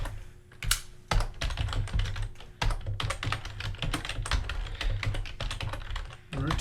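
Typing on a computer keyboard during a programming session, with rapid, close clicking keystrokes in uneven bursts and brief pauses, fairly soft and with no voices.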